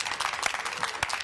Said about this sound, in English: You're making me clap like I'm in the audience.